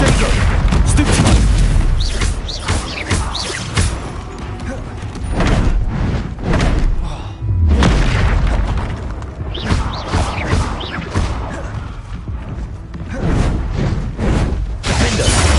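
Repeated fiery blasting-spell explosions from combat in the Hogwarts Legacy wizard video game, loud booming bursts in several waves with rumbling tails and short quieter gaps, dense and close throughout.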